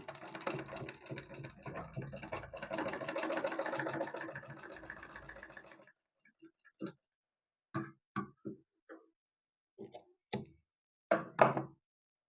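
A sewing machine stitching fabric for a blouse latkan tassel whirs steadily for about six seconds, then stops, leaving a few scattered clicks and taps close by.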